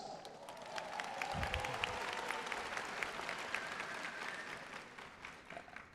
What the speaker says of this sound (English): As you just did, our students should be applauded for these accomplishments